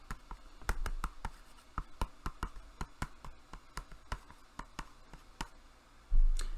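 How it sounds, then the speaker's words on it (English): Pen writing on a clipboard held up close, a steady run of light scratching strokes and taps that go on for several seconds, with a soft bump near the end and no talk. "Let me just write that down."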